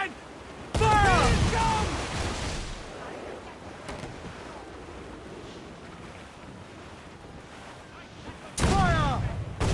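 Heavy ship cannon blasts boom in Assassin's Creed Black Flag, two loud broadside bursts with long rumbling tails, set against steady wind and ocean surf, with voices shouting over the naval battle.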